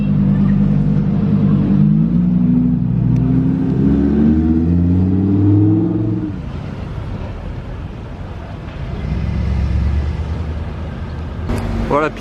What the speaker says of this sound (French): Elle fait vraiment du bruit ces RS6